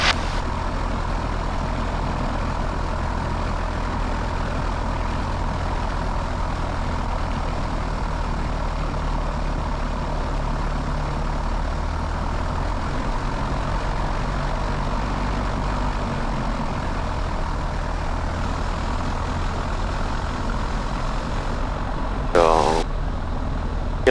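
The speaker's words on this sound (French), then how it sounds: "pour se préparer à un décollage immédiat" Light propeller aircraft on a runway preparing for immediate takeoff, a steady loud engine drone and propeller hum running throughout, with a brief higher whine near the end.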